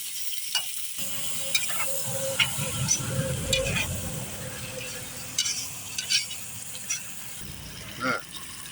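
Lamb meat and lamb fat fry in a pot for Uzbek shurva, giving a steady close sizzle with stirring scrapes and light clinks, and someone talks over it in places.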